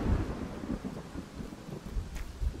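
Thunder rumbles after a lightning strike in the video game Celeste, low rolling booms with soft rain-like crackle underneath, moderately loud and uneven, with no talk.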